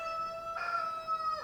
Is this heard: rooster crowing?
yes